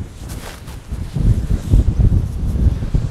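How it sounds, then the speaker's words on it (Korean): Strong wind roars and buffets the microphone in gusts at a Jeju seaside campsite, growing louder after the first second with low rumbling bursts. "지금 바람이 엄청나게 불고 있습니다."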